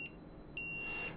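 A water leak sensor alarm gives a short high beep followed by a longer sustained beep, clean electronic tones, moderately loud and close in a quiet room.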